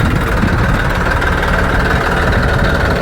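A new tractor engine runs steadily at idle with a constant low rumble and vibration throughout, close by, with no talk over it.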